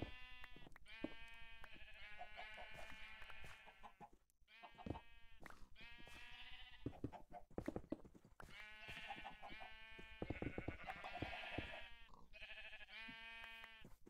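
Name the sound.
sheep bleating in video game Minecraft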